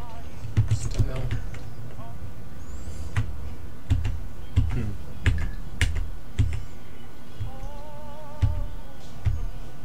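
Computer keyboard typing at a desk, a rapid run of light clicky keystrokes with brief pauses, close and moderately loud.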